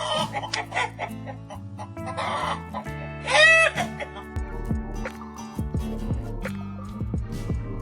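A farm hen clucks in a run of short, rhythmic calls with one louder squawk in the middle, close by and alone over a light musical backing.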